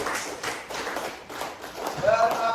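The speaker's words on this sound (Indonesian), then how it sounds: "tepuk tangan." An Indonesian classroom group claps hands together in brisk, rhythmic bursts, moderately close, with voices mixed in among the claps.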